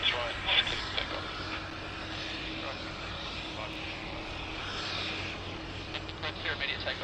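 An airliner takes off from runway 16 right at Sydney Airport, its engines a broad, distant roar that holds steady, with radio voices talking over it.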